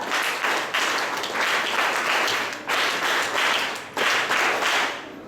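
Loud, continuous applause from an audience at a closing ceremony of a village de-addiction camp, dense clapping in rolling waves with no talk over it.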